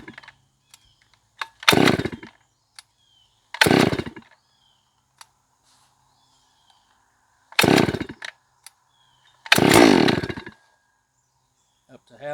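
A Neotec NS 872 chainsaw, a copy of the STIHL MS380, gives four short, loud, close bursts of engine noise separated by silence, with small clicks and handling noises in between.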